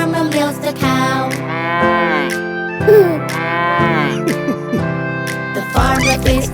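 In a nursery song, a cow moos in long, loud, drawn-out calls, several in a row, over a bright musical backing.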